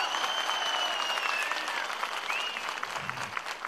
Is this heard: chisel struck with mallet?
no